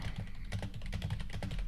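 Rapid typing on a computer keyboard, dense overlapping key clicks in a quick, steady patter, close and moderately loud, with a low hum underneath and no speech.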